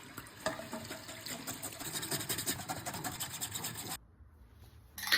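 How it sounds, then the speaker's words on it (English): Wet, raspy scrubbing of a printing screen with a toothbrush and hot water, a steady quiet rubbing rhythm for several seconds, then a short near-silent pause before the brushing resumes. "now I'm going to wash away the drawing fluid using hot water and a toothbrush"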